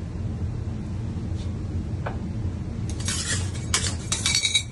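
Pineapple and coconut being mixed by hand into warm candy, soft low working noise with occasional clinks, then a burst of bright scraping and clattering toward the end.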